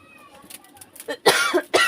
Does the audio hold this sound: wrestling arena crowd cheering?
no